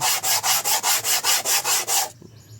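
A brake pad from a Nissan Navara is rubbed flat against an abrasive surface over plywood to strip its hardened face: nine steady, rhythmic scraping strokes, loud and close, then stopping abruptly into near silence.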